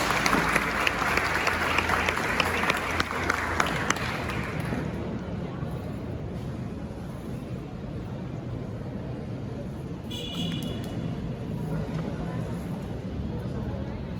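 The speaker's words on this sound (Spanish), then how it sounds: "Un aplauso para él, por favor." An audience at an inaugural university lecture bursts into loud, dense applause for about five seconds before the clapping dies away to a quiet room murmur.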